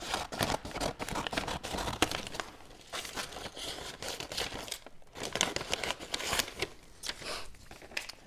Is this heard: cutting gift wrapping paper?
yes